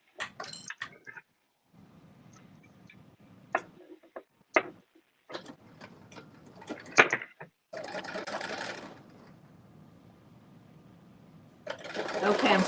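A domestic sewing machine stitching down a seam while sewing a McCall's M8208 pattern, running in several bursts of steady buzzing whir with short pauses between them, close by, with people talking in between.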